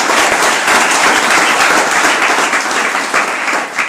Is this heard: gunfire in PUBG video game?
no